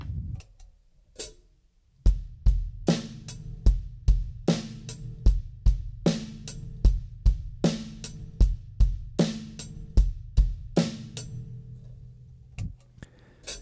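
A simple drum beat plays alone: steady hi-hat ticks over alternating kick and snare hits, evenly paced, ending with a few scattered hits.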